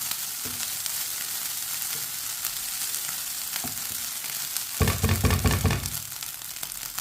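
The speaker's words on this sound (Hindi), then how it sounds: "चावलों को 3 मिनट के लिए मैंने पका लिया है।" Leftover rice frying in a pan on a stove at medium heat: a constant hissing sizzle, with a louder burst of crackling and stirring knocks for about a second near the end.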